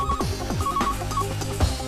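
A telephone rings out in short repeated electronic trills, a steady bell-like ring pattern repeating several times over a quiet background, with no talking.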